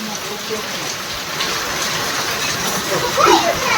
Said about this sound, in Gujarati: કેટલો વરસાદ આવ્યો જો